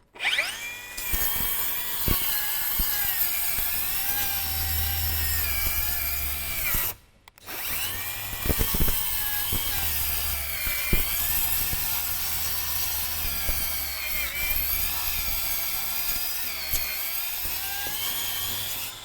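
A Milwaukee M18 cordless saw on a full battery cuts through triple-stacked half-inch OSB, a loud high whining buzz sustained close by, with one brief drop near the middle before cutting resumes.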